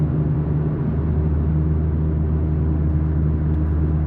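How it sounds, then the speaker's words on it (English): An Alpine A110 cruises along a British motorway, its engine and exhaust producing a steady low droning hum mixed with road rumble, even and unbroken from start to finish with no talking. "The car, as you can hear, still makes a good sound."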